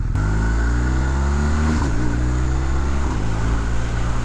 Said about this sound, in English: So up changing with the quick shifter, first to sort of third gear, quite clunky